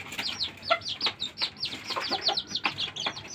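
Bantam chickens cluck and chirp in quick, uneven bursts, a busy stream of short, fairly close calls overlapping one another for several seconds.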